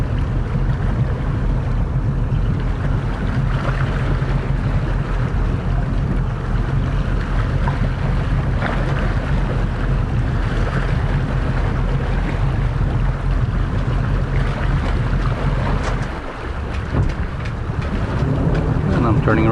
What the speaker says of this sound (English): putting my starboard engine in reverse and pushing with the port engine, moving upwind to have that extra margins